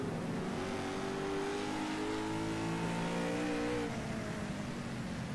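A race car engine in a sim racing game at Road America roars loudly and continuously, climbing in pitch as it accelerates, then dropping sharply as the car brakes, with no talking.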